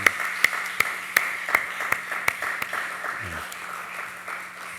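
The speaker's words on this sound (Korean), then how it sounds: "큰 박수로 끝까지 축복해 주시기 바랍니다" A church congregation at a Sunday service with a baptism claps in sharp, evenly spaced beats that thin out and fade into quiet room tone within a few seconds.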